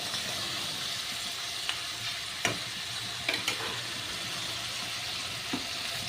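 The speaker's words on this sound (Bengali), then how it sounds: "আলু পেঁয়াজ কলিটা ভাজা হোক।" Potatoes and onions frying with salt and turmeric in a pan, a steady soft sizzle running throughout with a few light scraping stirs, close and fairly quiet with no talk.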